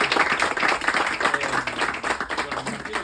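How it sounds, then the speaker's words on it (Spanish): Audience applause at a talk by comic artist Horacio Altuna at Sector 2814, celebrating sixty years of professional work: dense, steady clapping from a crowd for about three seconds, fairly loud and even, with no voices on top. "Un aplauso para los 60."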